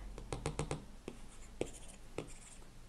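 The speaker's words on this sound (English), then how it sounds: "without this little tip, the Apple Pencil makes quite a sharp noise on the iPad" An Apple Pencil with no rubber tip clicks sharply on an iPad screen: a quick run of five crisp taps followed by a few spaced single taps and light writing strokes, close and fairly quiet, with no speech.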